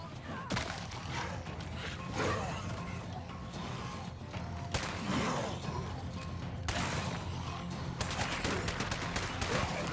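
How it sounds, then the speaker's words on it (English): Gunfire from State of Decay 2 as a feral zombie is shot repeatedly, with sharp broadband bursts recurring through a dense, loud game soundscape. "I'll just shoot this feral everywhere except the head."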